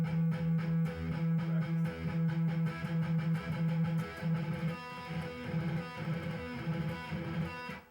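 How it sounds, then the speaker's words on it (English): Palm-muted electric guitar power chords in a heavy metal style, chugging in a steady, fast rhythm of tight, choppy bursts that play alone at a fairly loud level throughout. "That's called palm muting."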